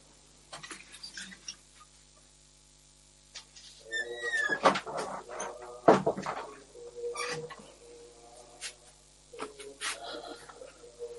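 A door is pulled shut inside a Thai Buddhist temple hall before chanting, giving a couple of knocks and a sharp wooden thud amid creaks and light shuffling, with a quiet room around it.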